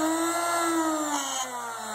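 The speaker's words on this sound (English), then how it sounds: "The drill has its speed controlled." A 120-volt AC electric drill motor with a speed controller whirs steadily up close, its pitch sliding slightly lower as it runs.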